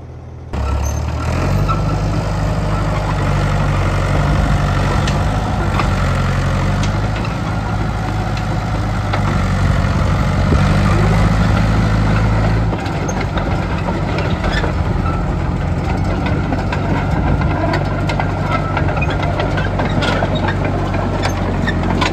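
An old machine's engine runs after its batteries are boosted, rumbling loud and close at a steady idle after catching at the start, with a slight shift in tone partway through and no voices.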